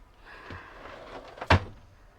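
A handmade wooden drawer in a converted bus is pulled open with a soft scraping slide, ending in a sharp thump partway through, close and fairly loud, with no talk.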